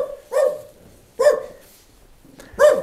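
A dog barks three times in short, loud bursts spaced about a second apart, close by, with no talking.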